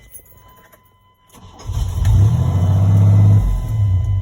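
The engine of a 1996 Chevy 1500 pickup with a faulty mass airflow sensor cranks, catches and runs roughly for a couple of seconds before fading. The sound is loud and close, with a faint metallic jingle before the start.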